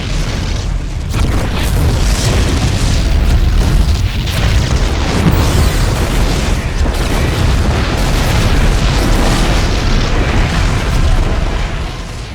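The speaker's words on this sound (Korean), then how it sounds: "폭발이 멈췄습니다." Dense, rumbling explosions from the StarCraft II Heart of the Swarm campaign boom continuously and loudly, layered with crackling bursts and game noise.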